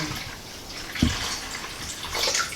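Water, 1.5 liters, being poured into a pancake machine, a continuous splashing rush with a brief heavier gush in the middle, close and steady without speech.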